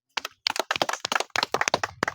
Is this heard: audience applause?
yes